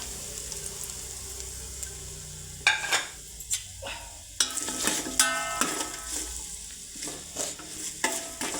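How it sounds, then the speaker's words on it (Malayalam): Chopped onions hit a hot pan for chicken curry and fry with a steady sizzle, broken by several loud bursts of stirring and scraping against the pan, with no one talking. "അരിഞ്ഞ് വെച്ച സവാള നമുക്ക് ഇട്ടെടുക്കാം"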